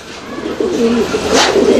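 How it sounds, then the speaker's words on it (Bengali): A female fancy pigeon coos close by, a low rolling warble repeated over a couple of seconds with faint background noise. "এটা হচ্ছে আপনার মাদি কবুতরটা"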